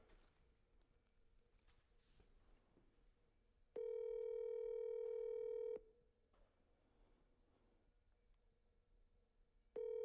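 Ringback tone of an outgoing phone call: a steady electronic tone rings for about two seconds, pauses for about four, then starts again near the end, clear and close over a faint background hum.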